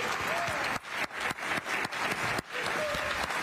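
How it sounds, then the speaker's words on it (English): A studio audience applauds in a burst of fairly loud clapping at the close of a Seattle City Council District 3 debate, chopped by brief dips with a little background voice and tone underneath. "You can applaud."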